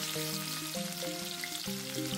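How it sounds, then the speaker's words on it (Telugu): Chopped onions sizzle and fry in hot oil while Hyderabadi chicken dum biryani is being made, giving a steady, close crackle under faint background music, with no one talking. "నూనె అనేది వేడెక్కగానే కట్ చేసి పెట్టుకున్న ఉల్లిపాయలు వేసుకో"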